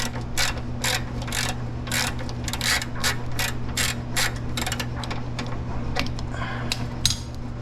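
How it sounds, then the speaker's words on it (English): An extendable ratchet clicking rapidly in repeated bursts while loosening a nut on a Lexus SC300/SC400 during a rear toe link install, close and crisp over a steady low hum. "Extendable ratchet, really nice."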